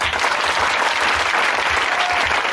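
A church congregation applauding the Lord, dense sustained clapping from many hands filling the room, steady and loud throughout with a faint voice underneath.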